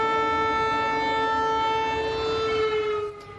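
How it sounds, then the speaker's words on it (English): An air raid siren wails in Lublin, Poland, holding a steady, loud, harmonic-rich tone for a few seconds before starting to drop away at the end, with no talk over it. "The sirens could be heard in early morning hours in Lublin, southeast of Warsaw"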